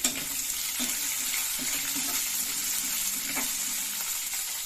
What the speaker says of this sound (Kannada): ಈಗ ಈರುಳ್ಳಿ ಹಾಕೊಂಡ್ಬಿಡ್ತೀನಿ ಈರುಳ್ಳಿ ಕೂಡ ಚೆನ್ನಾಗಿ ಫ್ರೈ ಮಾಡ್ಕೊಂಬಿಡಿ